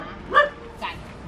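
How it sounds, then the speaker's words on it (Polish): A dog near an abandoned bus gives two short sharp barks in close succession, loud and close. "Tutaj obok warczy pies."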